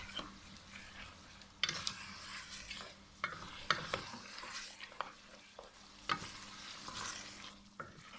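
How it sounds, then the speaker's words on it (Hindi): Mutton sizzles steadily as it fries in a pan, with repeated scraping and clinking strokes of a spoon stirring it, close and moderately quiet, with no speech. "2-3 मिनट गोश्त को अच्छी तरह फ्राई कर लेंगे।"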